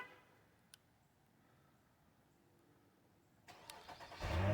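A Nissan car engine starts by remote start, a quiet outdoor lull broken near the end by a burst of cranking that swells into a loud, steady running engine.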